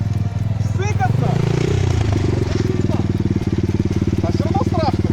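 A Minsk X250 enduro motorcycle engine revs up and drops back, a loud, close, pulsing four-stroke chug with throttle blips, while people talk over it.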